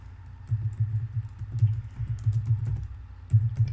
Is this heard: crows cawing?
no